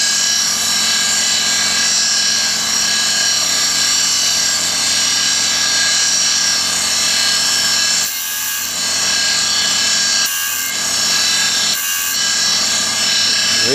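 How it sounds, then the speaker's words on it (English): A surface grinder grinding brass-free steel clock pallets for a Graham deadbeat escapement to width, a steady loud whining hiss that runs continuously with three brief dips as the wheel passes off the work. "we'll go back to the surface grinder now and grind this down to the right width"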